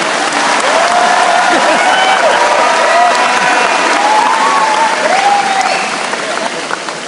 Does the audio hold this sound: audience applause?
yes